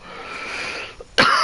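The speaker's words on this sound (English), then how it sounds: "You'll have to excuse my coughing." A single sharp, close cough bursts out after a stretch of quiet background hiss, from a man recording at home.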